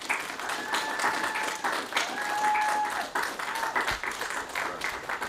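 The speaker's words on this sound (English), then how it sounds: "if you could give a round of applause to our panelists" Audience applause for panelists at an Anime Midwest convention podcast session, sustained clapping from a crowd with some cheering and voices mixed in, fading a little near the end.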